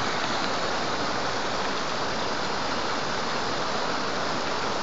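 A waterfall in the mountains of Haute-Savoie roars as a dense, steady broadband rush, loud and continuous with no break and no voices.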